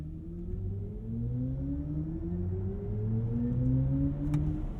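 A 2022 BMW iX xDrive50 electric SUV launches hard from a brake-boosted start, its motor whine sweeping steadily upward in pitch over a rising road and wind rumble, heard from inside the cabin.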